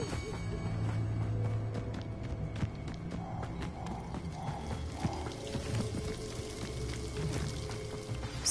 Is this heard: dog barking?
no